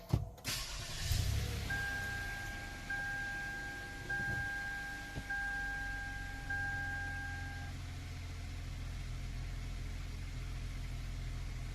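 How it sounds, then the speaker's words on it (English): A 2011 Lexus RX350 starts with a brief crank and catch, then settles into a quiet, steady idle heard from inside the cabin, with a faint electronic tone from the dashboard for several seconds. "So let's turn on the vehicle and check it out."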